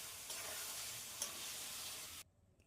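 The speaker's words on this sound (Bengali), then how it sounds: "তারপর এর মধ্যে আমরা ভেজে রাখা আলুর টুকরোগুলোকে" Fried potato pieces are stirred into chicken curry gravy, making a soft, steady sizzle with a couple of faint stirring bumps before it cuts to near silence.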